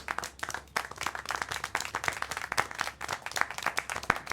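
Scattered, uneven clapping and applause in the video game Syberia: The World Before, fairly faint, with sharp individual claps in a continuous patter and no talking.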